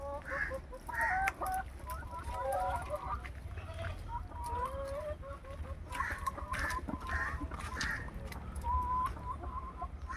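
Laying hens in a high-tech coop cluck in short, scattered calls throughout, with a few louder squawks over a steady low hum and some talking in the background.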